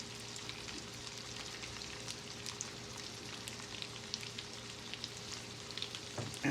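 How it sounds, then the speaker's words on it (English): Danish candied potatoes in sugar sizzle gently and continuously in a pan at low heat, a soft, steady crackle with occasional small pops. "And we just let it keep sizzling."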